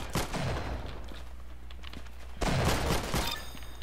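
Rapid automatic gunfire from a weapon in the Roblox game Arsenal, loud and close, in two sustained bursts separated by a short gap.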